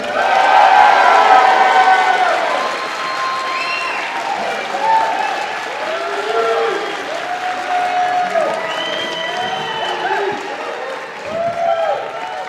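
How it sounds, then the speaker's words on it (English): Loud, sustained applause with cheering and whistles from a large crowd at an election pep rally in Reading, Pennsylvania, swelling near the start and continuing steadily throughout. "let's keep that applause going for your Senator, Ms. Judy Schwank."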